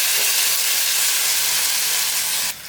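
Hot tempering poured into jackfruit curry sets off a loud, dense, continuous sizzle that fades abruptly near the end.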